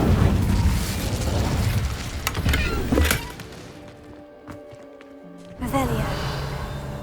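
The Incendio fire spell cast in Hogwarts Legacy gives a few seconds of roaring, crackling bursts that stack into a loud burning whoosh, then settles under a quiet interior hum with faint creaks. Voices talk around it.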